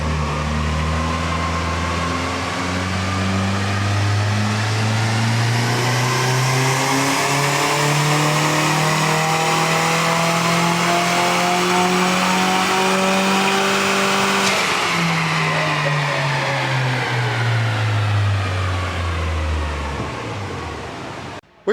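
A car on a dyno run with new injectors, turbocharged, pulling from low to high revs: a loud, sustained engine drone climbing steadily in pitch, then backing off and falling, with no voices.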